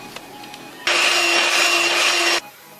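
An electric mixer runs at full speed through cupcake batter of flour and egg, a loud steady whirring drone that starts abruptly, holds evenly for about a second and a half, then cuts off.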